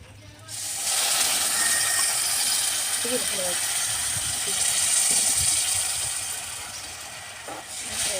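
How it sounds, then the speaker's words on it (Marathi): Water poured into a pan of hot ghee and jaggery sets off a loud, steady hiss and sizzle that lasts several seconds, with faint bubbling underneath and no talk over it. "आता ह्याच भांड्यानं अर्धं भांडं याच्यात पाणी वाटायचं याच्यात पाणी ओतूया"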